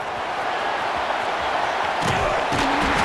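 Stadium crowd noise in an EA Sports College Football 26 game during a punt return, a broad roar that swells into brief cheering bursts near the end.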